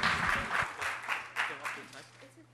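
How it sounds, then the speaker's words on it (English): Audience applause at a disaster-resilience conference panel, a fairly short burst of clapping that fades over a couple of seconds, with a steady low hum and some voice beneath it. "Ask for another round of applause for Abdullah."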